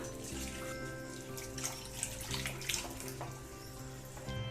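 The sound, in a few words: pouring cooking water into pot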